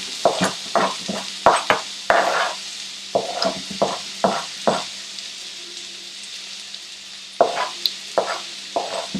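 Finely chopped onion hitting hot oil in a pan while cooking paneer palak, with loud bursts of sizzling in irregular clusters alongside stirring and utensil clatter, close up and free of talk.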